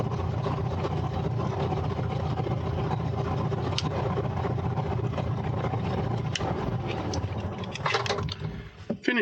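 Light aircraft engines run steadily at a low rumble in the outback before shutdown, a continuous droning hum with a few small clicks and knocks near the end.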